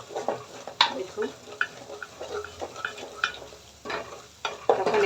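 Spice paste for goat meat fries in oil while being stirred, a soft sizzle under irregular scraping and tapping of a spoon against the pot, close and fairly quiet.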